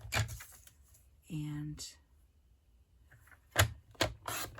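Paper being cut to 5 7/8 inches for a Stampin' Up! stationery box, heard as a few short crisp slicing strokes at close range, with a brief spoken word and a tonal hum between them.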